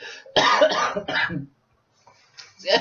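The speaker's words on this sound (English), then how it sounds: "excuse me, I had a cough." Several harsh coughs close to the mic in two quick bursts, a pause, then another cough starting at the end.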